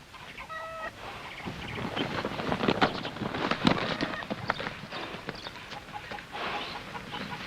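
Hooves of a horse being broken and ridden in a 1951 Western, a loose clattering of hoofbeats with scuffling and rising, falling intensity, close by with some background commotion.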